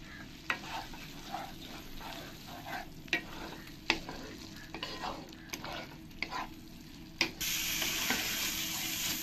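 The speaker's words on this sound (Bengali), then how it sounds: "এবার আমি একবার ভালো করে নাড়িয়ে দেবো।" A spatula stirs fried potatoes through a poppy seed curry with ridge gourd in a pan, giving repeated scraping strokes over a steady sizzle that swells louder near the end, with no talking.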